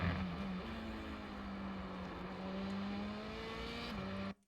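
An F3 open-wheel race car at Silverstone in the iRacing simulator, its engine held at full throttle. The close, loud, steady high-revving drone shifts pitch slightly with gear changes, then cuts off abruptly at the end.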